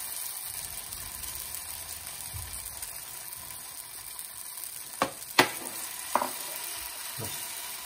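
Oil sizzles steadily on a griddle while uttapam cooks, a soft continuous hiss broken by a few sharp clicks and scrapes of a utensil.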